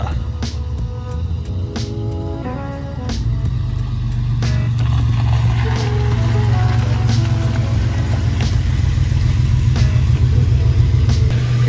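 A Toyota FJ62 Land Cruiser heard from inside as it drives, with a steady low engine rumble that builds slightly, plus intermittent clicks and creaks from the cabin.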